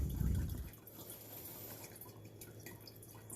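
Water drains and trickles through the potting medium of a Nepenthes cutting, a faint, steady dripping and gurgling after a brief louder splash at the start, with no talking.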